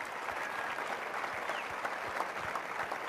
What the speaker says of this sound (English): Let's have a big round of applause for all the legends.